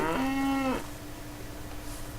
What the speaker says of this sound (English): Trying to see if I have enough space to take out this cow.